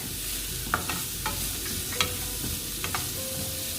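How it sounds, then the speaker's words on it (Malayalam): Carrots sautéing in coconut oil over a medium flame, a steady soft sizzle with a few sharp scraping stirs of the spoon spaced through it, close and alone. "ഇനി ഇത് നന്നായിട്ട് വെളിച്ചെണ്ണയിൽ മീഡിയം ഫ്ലെയിമിൽ ഇട്ടിട്ട് വഴറ്റി എടുക്കുക."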